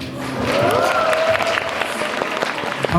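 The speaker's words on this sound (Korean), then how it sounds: "여러분, 박수 한 번 주세요" An audience at a small live music event claps briefly and steadily while a faint voice and a brief tonal sound rise over the crowd noise.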